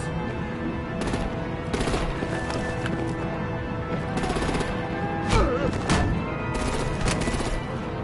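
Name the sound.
gunfire and artillery from Batman Telltale: The Enemy Within video game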